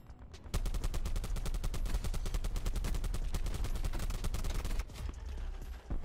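Rapid automatic gunfire in Call of Duty Black Ops 4, a dense sustained burst of evenly spaced shots lasting several seconds, loud and close, then stopping abruptly.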